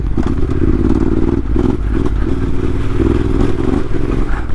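Yamaha T7 motorcycle cruising at about 30 over small road bumps, a loud steady engine drone with wind rumble and occasional thumps and clatter from the bumps, no voices.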